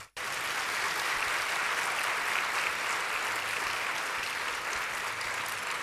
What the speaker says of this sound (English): Now I want all of you to clap for your parents.